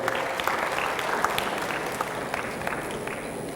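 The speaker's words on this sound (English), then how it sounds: "Big round of applause for Palak." A room of students claps at an MBA entrance exam seminar, a dense, steady round of applause with a few sharper individual claps standing out, moderately loud and without talking.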